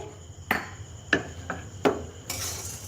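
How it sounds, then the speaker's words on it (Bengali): A spoon knocks against a pan while lentils and cinnamon fry together over low heat: four sharp, separate clinks spaced about a second apart, close and fairly loud, followed by a brief rise in hiss at the end. "এইভাবে নাড়তে হবে ডাল আর দারুচিনিটা আমি ভেজে নিচ্ছি"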